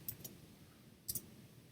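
Computer mouse clicks while working in Zotero: four small, sharp clicks in two quick pairs, separated by a short pause, faint against a quiet room.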